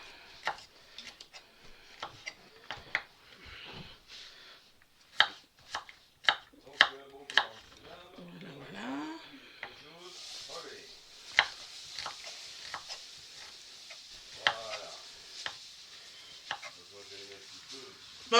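Turkey wings are cut up for Asian-style turkey gizzards, with a run of sharp, irregular knife chops and taps on a board and a brief stretch of quiet speech in the middle.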